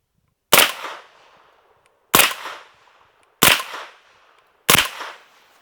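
A Sentry AP5 MP5-clone roller-delayed blowback gun fitted with a Hush-Point .45 suppressor fires subsonic rounds: four sharp, evenly spaced suppressed reports, each followed by a short fading ring, alone and close.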